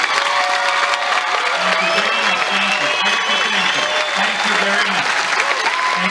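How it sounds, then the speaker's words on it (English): Sustained applause from an audience at a game show aboard the cruise ship Allure of the Seas, steady and full, with some crowd noise and possible voices mixed in throughout. "give you the thunderous round of applause you deserve"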